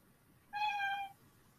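A house cat gives a single clear, tonal meow of about half a second, moderately close in an otherwise quiet room.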